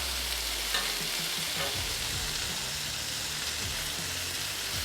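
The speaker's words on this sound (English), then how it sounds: "I'm gonna start with a little bacon" Bacon crackles and spits on a Ninja FlexFlame griddle in a dense, steady sizzle with a faint low rumble beneath, close and continuous, no one speaking.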